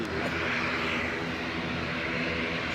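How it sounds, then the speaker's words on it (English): A Ryanair Boeing 737 MAX arriving from Alicante comes in to land at Leeds Bradford Airport, its jet engines a steady, loud broadband roar that holds unbroken throughout, with no voices. "Ryanair 737 MAX from Alicante."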